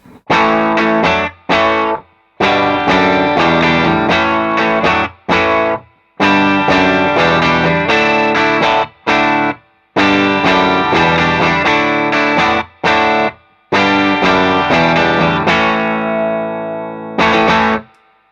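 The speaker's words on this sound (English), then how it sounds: "So that's the sound of the guitar straight into the amps, no pedals" Electric guitar played straight into close-miked amps with a room mic and no pedals, giving loud, crunchy overdriven chords in choppy bursts separated by short silences, without any talking.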